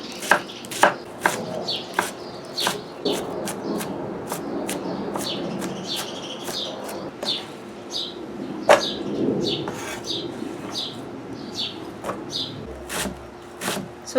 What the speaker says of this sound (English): So try to chop it up as thin as you can